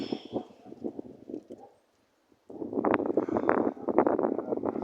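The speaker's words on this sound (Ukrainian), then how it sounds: "у нас вітряна погода" Gusty wind buffets the microphone in rough, rumbling bursts, dropping out briefly before returning louder and more constant.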